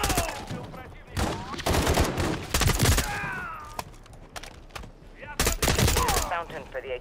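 Gunfire in the Modern Warfare 3 campaign video game comes as repeated sharp bursts and single shots, some loud and close, layered with voices talking and in-game radio chatter throughout.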